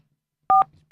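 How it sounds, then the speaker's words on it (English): A telephone keypad plays two short dialing tones, one long and one beginning right at the end, loud and alone with only a low hum between them. "Who's dialing in? I'm dialing."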